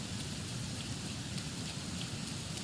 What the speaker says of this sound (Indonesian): Hujan petir, wow seru ya.